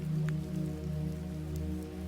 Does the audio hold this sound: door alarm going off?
no